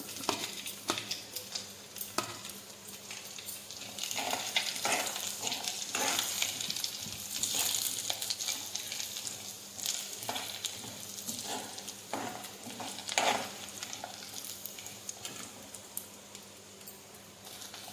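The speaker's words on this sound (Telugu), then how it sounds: "తాలింపు దినుసులు కూడా వేసేసుకున్నాం" Tempering spices and dried coconut sizzle and fry in a pan of hot oil for temple-style katte pongali, a soft steady crackle with occasional stirring scrapes, fairly quiet and with no talk.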